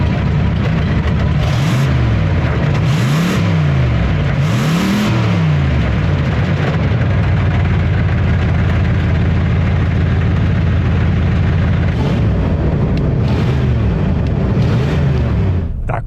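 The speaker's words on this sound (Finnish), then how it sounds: "Sitten no painetaan kaasua, se varmaan pitää jo jonkunlaista mekkalaa." A 1973 Buick Electra 225 with a 7.5-litre V8 revs repeatedly, each throttle blip rising and falling in pitch over a steady low idle rumble, loud and close, with a second burst of revs near the end.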